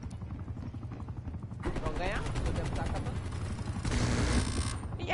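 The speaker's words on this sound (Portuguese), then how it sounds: "Esse helicóptero é deles, né?" A helicopter in the video game Call of Duty Black Ops Cold War on PlayStation 5 thrums steadily as bursts of gunfire crackle over it, with players talking throughout.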